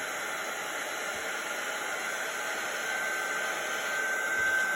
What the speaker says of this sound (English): I'm going to give that a little blast with my heat tool, just to get that ink nice and dry.